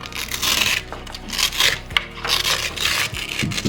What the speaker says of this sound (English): the chin strap will come out by peeling it to the side